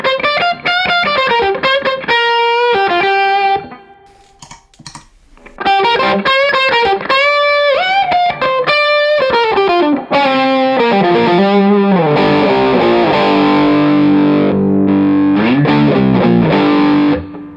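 Electric guitar through a JAM Pedals Double Dreamer overdrive pedal with its built-in boost, playing a melodic line with chords, loud and saturated, briefly pausing near the start then continuing with thick, sustained overdriven tones.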